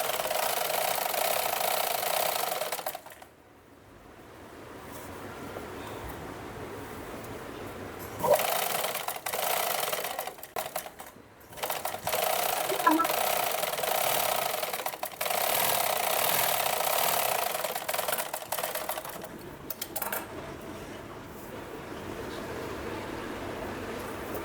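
A sewing machine stitching a princess-cut boat-neck blouse runs in long steady whirring bursts with short stops between seams, close and loud, a voice speaking faintly at times.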